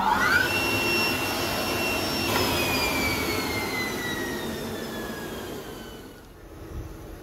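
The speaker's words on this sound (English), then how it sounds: "Vacuum to the table is created by this three-phase vacuum pump," A three-phase vacuum pump supplying hold-down vacuum to an old MultiCam CNC router table runs loud and steady, with a high whine that slowly falls in pitch before the sound drops away near the end.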